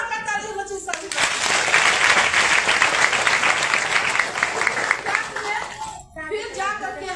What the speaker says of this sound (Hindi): जोर का ताली बच्चे सभी